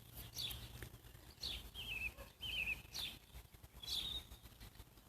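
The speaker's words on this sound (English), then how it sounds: "There's a thrush over there." A thrush's song rings out in a few short, high phrases spaced over several seconds, fairly faint against a soft outdoor background hum.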